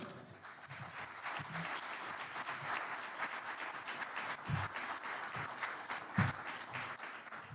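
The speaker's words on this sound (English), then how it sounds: "I'm sure that applause was for Fred" Sustained audience applause at the NHP Foundation 2017 Symposium, a dense steady wash of many hands clapping in a large room for about seven seconds, moderately distant, with no speech over it.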